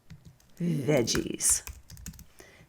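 Keys clack briefly on a computer keyboard while working in Adobe Illustrator, a short run of close taps mixed in with a person speaking.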